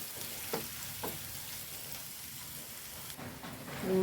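Garlic and shallots fry in a pan with a soft, steady sizzle and a few faint stirring clicks, quiet and close with no talking.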